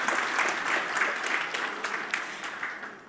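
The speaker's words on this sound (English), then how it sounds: "That deserves a round of applause." A conference audience at the EcoMotion Assembly 2024 mobility tech event gives sustained, dense applause, a steady roar of many hands clapping that gradually tapers off.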